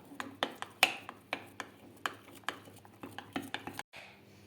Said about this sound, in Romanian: ciocolata s-a topit și acum o amestecăm